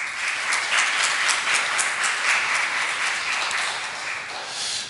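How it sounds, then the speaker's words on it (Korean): A church congregation at a Sunday service claps in encouragement for a women's choir after their hymn, a loud, even wash of many hands clapping for several seconds, fading slightly at the end, with no talk. "우리 한나 여성교 회원들에게 큰 격려의 박수 부탁드립니다"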